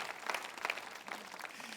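A church congregation claps and applauds during a morning service, a brief, fairly quiet burst of many hands clapping with a few sharper individual claps standing out.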